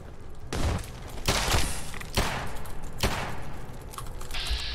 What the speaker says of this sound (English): What are you even shooting at right now?